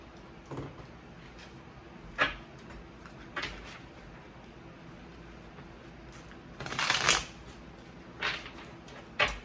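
A deck of cards is shuffled in several short, soft riffling bursts separated by pauses, one longer flurry near the middle, quiet and close with no talk.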